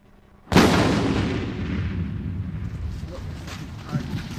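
A larger explosive charge detonates underwater in a tank during a damage test: one sudden loud boom at the start, then a long rumbling, churning roar of disturbed water that slowly settles, with a voice briefly heard.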